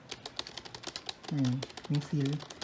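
Keys on a Logitech MK235 keyboard are typed in a quick, steady run of soft, fairly quiet clicks, with a person talking over part of the typing.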